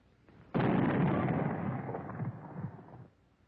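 A rifle shot from a 1942 Disney wartime cartoon sounds as a sudden loud blast that holds as a dense, roaring burst for about two and a half seconds before cutting off abruptly into near silence.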